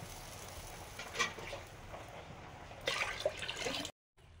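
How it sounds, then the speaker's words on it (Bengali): Water poured into a cooking pot over soaked rice and lentils for khichuri, splashing and trickling in two short bursts at close range, with no voices. "পরিমাণ মতো জল দিচ্ছি সেদ্ধ করার জন্য"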